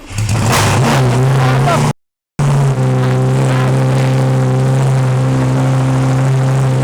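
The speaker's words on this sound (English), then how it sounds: "This is my new to me Lamborghini Gallardo, and it is way too loud." A Lamborghini Gallardo engine with straight-pipe exhaust rumbles loudly at close range, a steady low droning idle with strong harmonic tones after a brief blip early on, interrupted by a short cut.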